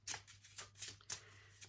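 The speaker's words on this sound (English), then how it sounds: "get the cards shuffled," Soft, crisp riffling bursts of playing cards being shuffled, several quick rustles in uneven rhythm, close and quiet.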